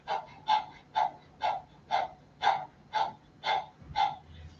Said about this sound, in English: stick your tongue out and breathe through your mouth like you're panting